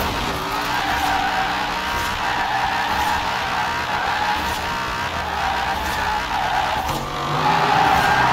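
Continuous tire skidding and squealing from a car drifting and spinning donuts in Forza Horizon 4, loud and sustained with engine drone underneath, surging slightly louder near the end.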